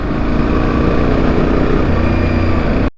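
Yamaha Tenere motorcycle engine, a 2025 Tenere Plus, pulling up a hill in third gear, a loud, steady, close drone that holds without break before cutting off abruptly at the end.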